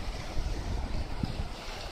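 Ocean waves wash onto a beach on the coast just beyond the Tottori Sand Dunes, a broad steady surf hiss mixed with gusting wind buffeting the microphone, no voices present.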